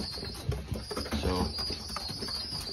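Racing pigeons coo in a loft during breeding season, a run of soft, throaty rolling coos close by with faint rustling and wing movement around them.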